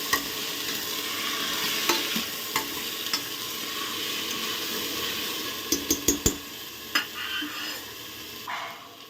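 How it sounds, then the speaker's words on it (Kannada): Soaked chickpeas fry in a little oil with a bright continuous sizzle, broken by repeated clinks and scrapes of a spoon stirring against the pan, several close together near the end. "ಸ್ವಲ್ಪ ಎಣ್ಣೆಯಲ್ಲಿ ಒಂಚೂರು ಫ್ರೈ ಮಾಡಿಕೊಂಡ್ರೆ ಚೆನ್ನಾಗಿ ಬರುತ್ತೆ"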